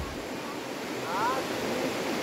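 A river swollen after heavy rains rushes into a pool, giving a steady broadband roar of flowing water at close range, with a faint voice briefly under it.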